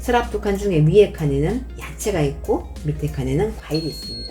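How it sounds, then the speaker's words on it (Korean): A refrigerator's door-open alarm sounds while the door stands open, a thin, high, steady tone that comes in near the end, faint beneath a person talking throughout. "문을 열어놓다 보니까 삐삐 소리가 나는데"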